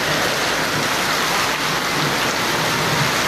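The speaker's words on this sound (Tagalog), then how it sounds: "Hindi lang basta-bastang ulan, malakas na ulan na." Heavy rain pours in a loud, dense, continuous hiss of drops hitting surfaces close by, steady throughout with no talking.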